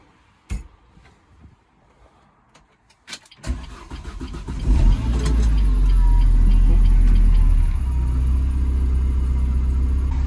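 A Renault Clio 197 is started after a few clicks and taps: the starter cranks, the engine catches with a sharp rise, then settles into a loud, steady, close idle that continues to the end, with no speech.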